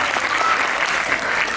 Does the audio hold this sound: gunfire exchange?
no